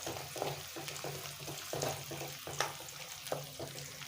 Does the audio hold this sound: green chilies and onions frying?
yes